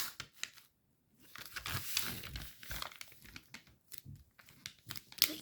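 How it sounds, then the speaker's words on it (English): Sheet of origami paper being folded in half at the start of a Spadewing fighter jet model, with close crinkling and rustling in irregular bursts, a brief quiet gap, then sharper creasing sounds near the end. "You'll want to begin by folding the paper in half"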